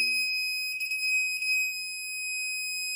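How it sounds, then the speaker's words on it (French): A K68 signal detector held near a device gives a continuous high electronic tone, steady and loud for the full three seconds, with faint murmurs under it. "ce sera des longs bips quand on approche de l'appareil"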